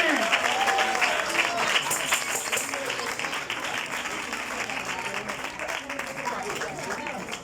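Applause for a groom at a wedding, a sustained crowd clapping that stays fairly loud, with voices and cheering woven through it.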